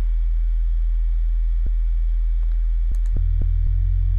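A steady, deep sub bass tone droning continuously, with a few faint clicks and a slight shift in pitch near the end.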